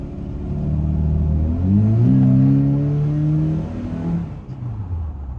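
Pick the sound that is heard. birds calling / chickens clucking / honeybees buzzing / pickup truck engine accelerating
pickup truck engine accelerating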